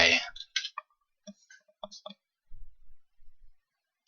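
A computer mouse clicking through an Ubuntu installer, with a few quiet, separate clicks spaced across a few seconds in an otherwise still room.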